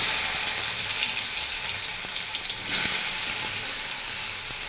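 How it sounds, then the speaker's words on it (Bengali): Hot oil with a pinch of salt sizzles and crackles steadily in a wok, a continuous dense frying hiss heard up close without talk. "তেল গরম হয়ে গেছে, তেলের মধ্যে আমি একটু নুন দিয়ে দিয়েছি"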